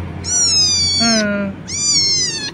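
A kitten gives two high, drawn-out meows separated by a short lower cry, close and clear over a low steady hum.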